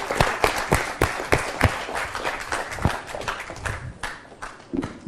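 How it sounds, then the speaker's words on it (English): Applause and clapping from a live audience at a music talk show, dense irregular hand claps sustained throughout at moderate loudness, fairly close, with faint crowd noise beneath. "big round of applause to everybody and Kim Bazell"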